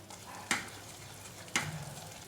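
Besan and semolina roasting in ghee over a low flame, with two sharp stirring scrapes against the pan above a quiet, steady sizzle.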